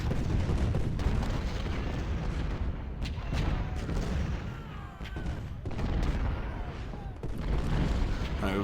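Artillery and cannon fire in the Civil War strategy game Ultimate General: Civil War, a continuous dense roar of overlapping booms and distant gunfire rumbling steadily throughout, with no speech.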